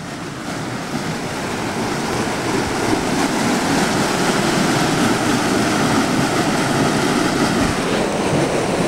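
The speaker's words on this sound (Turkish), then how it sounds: "Su fışkırıyor ve öyle güzel, öyle muhteşem bir sesi de var ki insana terapi gibi geliyor" Water gushes from a spring at the source of a stream in Antalya, a loud, continuous, broadband rushing that builds slightly and holds steady up close, with no voices.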